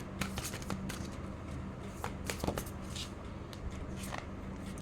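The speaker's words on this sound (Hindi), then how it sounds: "Let me just take one more card." Tarot cards are handled and drawn from a deck, giving close, quick papery flicks and soft slides in a loose irregular rhythm over a steady low room hum, with no talking.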